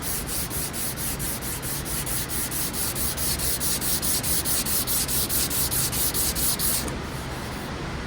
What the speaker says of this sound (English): So I'm going to continue to sand until those disappear.